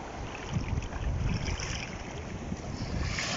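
Waves roll and break on the Black Sea shore beneath heavy wind buffeting the microphone, a continuous close wash of surf with no voices over it.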